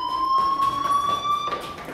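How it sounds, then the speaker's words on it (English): Electronic fire alarm ringing inside a school in the video game Life Is Strange, a steady high-pitched tone with overtones that holds continuously throughout, loud and unbroken. "Hey, do you hear that fire alarm?"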